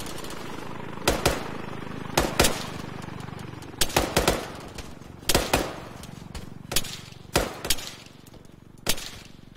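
Gunfire in the military shooter Arma 3, with sharp shots and short bursts popping out at irregular intervals, some close together in pairs and quick clusters, against a low background rumble.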